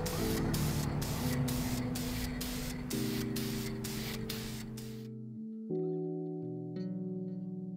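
Spray painting a coil, a can blasting steady hissing bursts for about five seconds with a hum underneath, then cutting off to quieter tonal hum.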